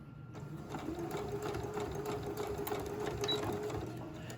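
A sewing machine runs steadily, stitching close to the end edge of fabric while mending a hole, with a continuous close mechanical whir and no talk.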